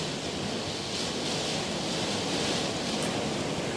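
Steady rain pours down outside, a dense, even hiss that fills the whole stretch without letup, loud and close, with no voices.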